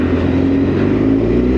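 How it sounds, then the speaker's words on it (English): A motorcycle engine revs hard inside a city-centre tunnel in Birmingham, a loud, close, sustained roar with a deep droning tone and no voices. "Rev bomb is mandatory"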